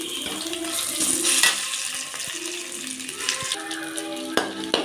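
Onions fry golden in oil in a kadai, a soft steady sizzle with scattered clinks and scraping stirs, fairly quiet and close.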